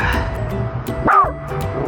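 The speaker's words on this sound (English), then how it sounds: "he's not gonna be able to bark at everything" An excited dog in a busy outdoor area lets out a single short, rising yip-like bark over steady background noise.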